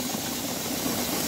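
A tractor engine idles faintly while the machine is maneuvered to position a grain auger during a rye loading, a soft continuous hissing hum with no talk over it.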